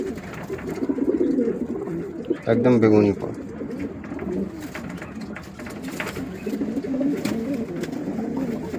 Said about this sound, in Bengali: এইটাই ছিল লফটের শেষ পায়রা